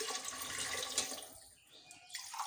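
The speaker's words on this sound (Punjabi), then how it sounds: "ਹੁਣ ਆਪਾਂ ਇਹਦੇ ਵਿੱਚ ਪਾਣੀ ਪਾ ਦਵਾਂਗੇ" Water runs from a vessel into a pan of spiced rice curry, a steady splashing pour that thins and trails off toward the end, with no voices.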